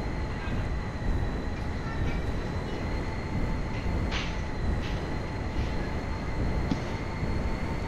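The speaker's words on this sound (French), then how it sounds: "vois le métro passer en plus." Subway train rumbling past in a video game, a steady broadband roar with faint high tonal whine and brief squeals, moderately quiet with no talk over it.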